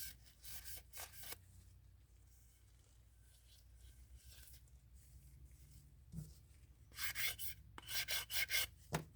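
A cast statue sanded by hand with gloved fingers, soft rasping strokes in short bursts at the start and a quicker run of rubbing passes toward the end, with quiet gaps between.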